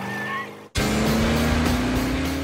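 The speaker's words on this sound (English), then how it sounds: "I think the turbo kicks in when it revs up" An animated sports car engine roars into a loud, sustained rev after a brief quiet gap, its pitch climbing steadily with a turbo building, preceded by a short voice.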